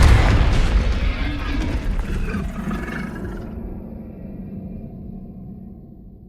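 A Confringo fire-blast spell explodes in the video game Hogwarts Legacy, a loud booming burst that rumbles and fades away over several seconds, with no speech.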